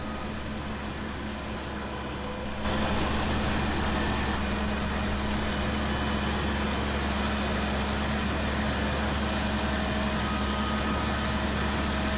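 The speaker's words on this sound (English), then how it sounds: "This tractor's really noisy." A noisy tractor engine in the video game Farming Simulator 2017 drones steadily and loudly, its constant mechanical hum and low rumble swelling after a quieter opening moment, with no voices over it.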